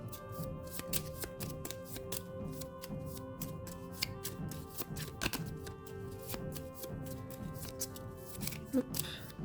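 Playing cards from a solo tabletop game being gathered from a discard pile and a play area, with dense quick papery flicks, taps and slides close by, irregular and soft, carrying no voice.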